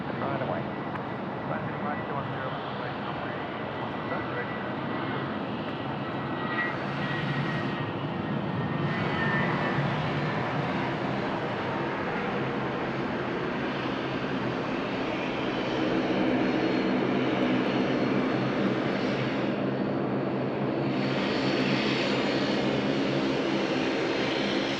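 At night, a Jetstar Airbus A320 rolls for takeoff at Sydney Airport. Its jet engines give a loud, steady roar that swells as it accelerates down the runway, heard from some distance under a few spoken remarks.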